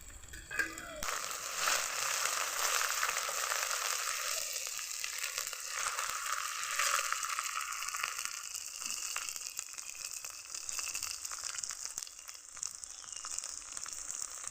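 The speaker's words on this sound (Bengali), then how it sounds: "মশলাটাকে লাল লাল করে ভেজে নিলাম।" Spice paste with green chillies sizzles steadily in a hot pan for a Bengali chapila fish mustard curry, a loud, continuous broadband frying hiss that starts abruptly after a brief pause and holds throughout.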